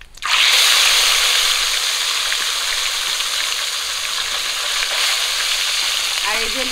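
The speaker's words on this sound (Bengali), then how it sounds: "এবারে ভেজে নেব মাছের মাথা।" Fish heads frying in hot oil, a steady, close, continuous sizzle with crackling texture throughout and faint clinks near the end.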